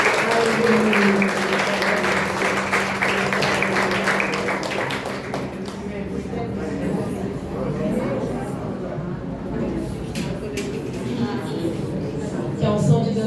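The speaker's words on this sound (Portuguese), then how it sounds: "Em nome de Jesus, aplauda, querida, ao Senhor." A church congregation claps at a Sunday communion service, first with rhythmic clapping over a held musical tone, then looser applause mixed with voices and chatter, continuing throughout.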